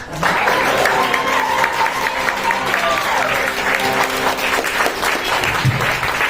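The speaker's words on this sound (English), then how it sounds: "You don't have to stop clapping yet." A camp musical audience claps steadily after a singer's performance, a continuous loud wash of applause with a few voices faintly underneath.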